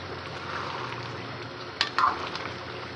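Beef karahi fries in ghee with a soft, steady sizzle, while a spoon scrapes and clinks twice against the pan near the end.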